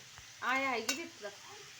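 A peanut, garlic and coriander masala mixture is stirred in a hot pan, with a soft sizzle and a short burst of scraping that fades back to a low fry.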